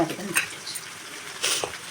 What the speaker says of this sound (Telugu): గరిట పెట్టి కలుపుకుంటా చక్కగా ఇలా కలిపేస్తున్నారు